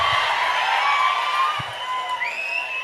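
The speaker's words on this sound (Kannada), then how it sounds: "ಈಗ ಚಪ್ಪಾಳೆ ಕೊಟ್ರೆ ಪ್ರಯೋಜನ ಇಲ್ಲ, ಮುಂದಿನ ದಿನಗಳು ಸ್ವಲ್ಪ ಜೋರಾಗಿ ಕೊಡಿ" Audience applause and cheering at a gathering, a lively mix of clapping and shouts that rises then gradually thins out.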